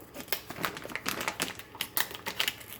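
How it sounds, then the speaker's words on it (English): Scissors cutting a circle off the top of a plastic Rescue fly trap, a quick close sequence of crisp snips and crackling plastic crunches over a few seconds. "Cut the circle off the top."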